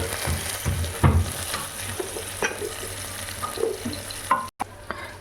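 Semiya vermicelli frying in a pan until reddish, a soft sizzle broken by repeated stirring scrapes and clatter, close up, with a short dropout near the end.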